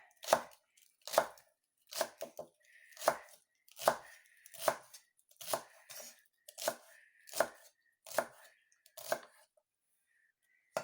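A knife slices through celery on a cutting board for soup, giving about a dozen crisp, evenly spaced chops. They are close and clear, with quiet pauses between cuts.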